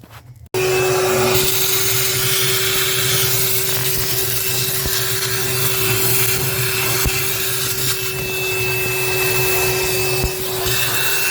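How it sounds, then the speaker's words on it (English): A loud vacuum cleaner sucks water from a flooded boiler, running steadily with a constant motor whine and a hollow rushing suction, with occasional faint clicks and knocks. "Vacuum all those out, vacuum out the bottom, vacuum around the boiler."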